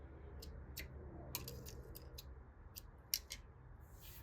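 Scissors snip sewing thread at a dart on the back of a bodice, giving a series of quick, crisp, close clicks over a faint quiet background.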